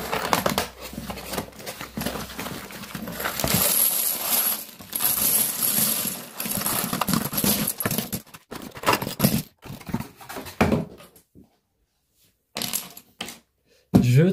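LEGO pieces are unpacked, making continuous loud plastic rattling and clattering as bags are opened and parts spill and shift, then a few sharper clicks after a short pause near the end.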